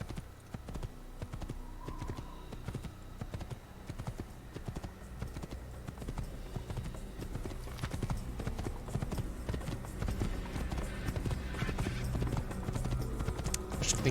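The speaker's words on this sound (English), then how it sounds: "Quero esse cavalo branco. Como que corre? Corre, cavalo." Hooves of a white horse clip-clop in a fast galloping rhythm in the video game Assassin's Creed, loud and continuous for the whole stretch, with faint talk underneath.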